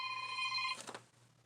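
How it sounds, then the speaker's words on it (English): A mobile phone rings with an incoming call during a quiet stitching session, a short electronic tone that cuts off abruptly and leaves a low hum. "Let me quickly put it on airplane mode so she doesn't keep calling me."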